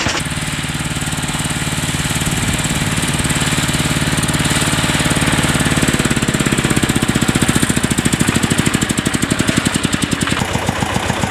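Small tractor working a garden plot with SF 240 harrows, a loud, close, rapidly knocking engine that runs steadily throughout and grows slightly louder and more rhythmic toward the end.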